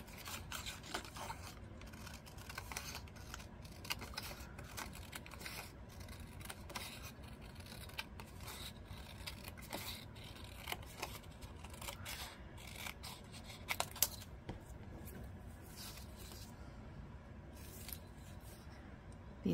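Scissors cutting paper tags down from long strips, a faint, close run of repeated snips and soft paper rustles spread over nearly twenty seconds.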